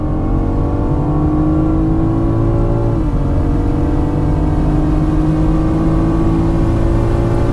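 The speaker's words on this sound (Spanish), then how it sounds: "Vamos a darle un acelerón." A 2021 BMW M440i convertible accelerates hard, its engine drone loud and close, climbing in pitch, dipping briefly at a gear change partway through, then rising again.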